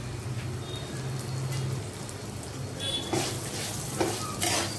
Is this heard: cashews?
yes